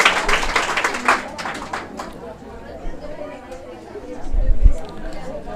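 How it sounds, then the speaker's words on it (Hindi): Students at a coaching class clap for a classmate, a brief burst of close hand claps mixed with chatter that dies out within two seconds, followed by room noise and a low thump. "जोरदार तालियां इसके लिए बाबू।"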